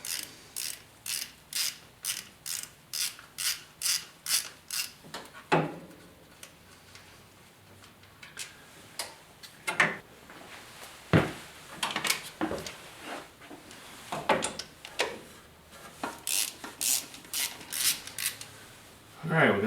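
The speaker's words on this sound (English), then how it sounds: "Now it's time to Take all the bolts off the intake." A hand ratchet works loose intake manifold bolts on a 454 engine during an intake swap, rapid rhythmic clicking in short bursts separated by pauses, close and distinct, with a few clanks of metal between runs.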